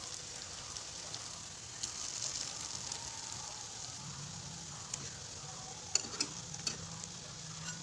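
Laopolla pitha, an Assamese rice cake with a jaggery filling, fries in a pan with a faint, even sizzle and a few light clinks as pieces are turned, close and quiet with no talk.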